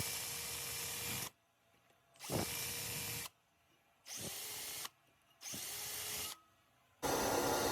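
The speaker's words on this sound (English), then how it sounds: "I'm going to go ahead and drill 3/16 holes in here" Power drill boring 3/16-inch holes in a forged steel knife blade before heat treating, in four loud bursts of whining drilling separated by short quiet pauses, with a fifth starting at the end.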